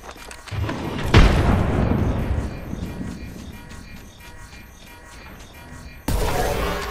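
A frag grenade from the video game Apex Legends detonates in one loud, deep boom with a sharp onset, then a long rumbling decay. A second burst of game noise cuts in near the end.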